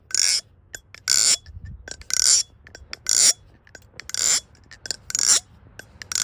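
Repeated dry, scratchy metallic clicks and flicks from an unlubricated one-hand folding knife mechanism, about once a second, close up, with faint rustling in between.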